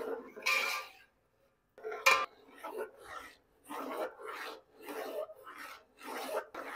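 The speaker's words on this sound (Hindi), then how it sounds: "अब चम्मच फेर के दोबारा इसको अच्छे तरीके से मिक्स करूंगा" A spoon scrapes and rasps through thick pethe ka halwa, a pumpkin halwa mixed with khoya, in a pan, in a steady series of separate stirring strokes that come close and fairly loud after a short pause.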